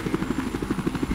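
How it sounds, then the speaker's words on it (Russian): Helicopter rotor thudding in a steady rapid beat overhead during a Battlefield 4 multiplayer match, loud and continuous. "Там сверху вертушка."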